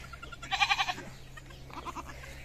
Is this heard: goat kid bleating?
yes